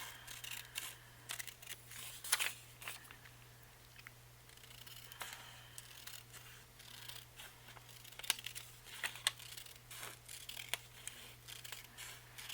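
Scissors snip through paper for a handmade journal template: quiet, close, irregular crisp cuts and rustles over a faint steady hum, no voices.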